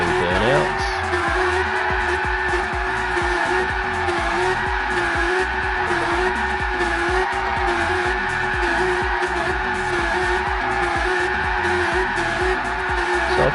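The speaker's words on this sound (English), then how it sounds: "sitting here and doing burnouts." Car doing burnouts in the Gran Turismo 7 racing game, a continuous, loud tire squeal over a steady engine drone for the whole span, with no break or letup.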